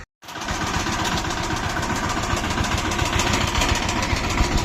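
A tractor engine idling in a farm field, a loud, steady, close-up rumble that runs without a break after a brief silent start.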